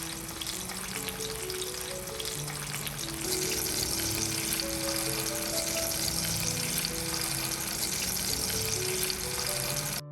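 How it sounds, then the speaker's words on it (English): Tomatoes sauté in a pan, giving a steady, loud, close sizzle that crackles and hisses continuously throughout, with gentle stirring and no voices. "Sauté gently until the tomatoes are tender and slightly charred at the edges"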